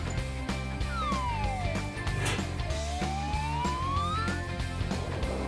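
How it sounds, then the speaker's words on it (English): A cartoon police car siren wails in rising and falling sweeps over bouncy background music, moderately loud and continuous. "I think that one looks like a police car, too"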